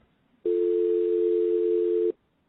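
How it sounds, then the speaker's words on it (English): A steady telephone dial tone sounds alone for about a second and a half, then cuts off into quiet. "So now when you hear this dial tone, I'll play this for you."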